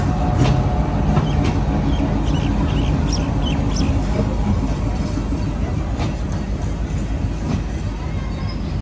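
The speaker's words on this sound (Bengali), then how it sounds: "উথুলি রেল স্টেশন থেকে মহানন্দা খুলনার উদ্দেশ্যে ছেড়ে গেল।" The Mahananda train pulls out of Uthuli railway station toward Khulna, a loud, continuous low rumble and clatter of wagons rolling close by, with faint bird calls above the steady roar.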